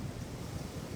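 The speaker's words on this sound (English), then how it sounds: "We still got wind and we got Gulf." Hurricane Helene wind and Gulf surf on Fort Myers Beach, Florida, a steady low roaring wash of waves and gusting wind buffeting the microphone without pause, no voices.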